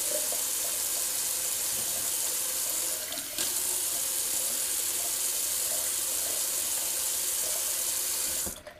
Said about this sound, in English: I'm just going to throw a little more cold water on my face to wash the alum off.